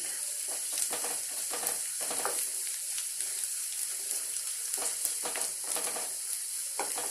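Ingredients fry in a pan with a little salt for a dried-fish tamarind stew: a steady, bright sizzle with scattered crackles and occasional scraping stirs, close and continuous throughout, no voices.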